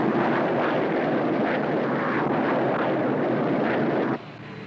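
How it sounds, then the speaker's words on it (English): An Air Sea Rescue plane flies overhead, a loud continuous broadband engine roar that holds steady before suddenly falling away near the end. "Air Sea Rescue Plane X-28 will endeavor to intercept."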